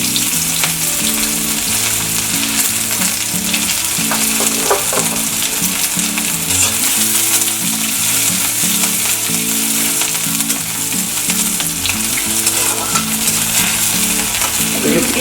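Onions frying loudly in hot oil for masala pav chop, a dense and constant close sizzle with a faint clatter of stirring now and then, and no one speaking.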